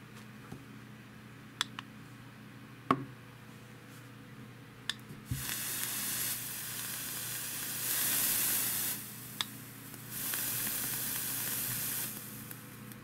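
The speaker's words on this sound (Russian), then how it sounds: "только что вы видели, как все это жарит на 200 ваттах" Vape coil on a KOOPOR Plus mod with a dripper atomizer firing at 200 watts, three loud sustained hissing sizzles a few seconds each, separated by quieter gaps with scattered clicks and ticks, and no speech.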